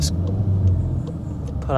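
Mountune-tuned VW Mk7.5 Golf R with a petrol particulate filter pulls out of a junction, a steady deep engine rumble heard from inside the car with faint clicks and a brief rising whine near the end.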